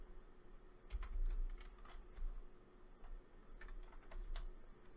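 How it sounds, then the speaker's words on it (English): Computer keyboard typing, a few short bursts of quiet, close key taps with small gaps between them, over faint room hum with no talking. "So I just type in taunt"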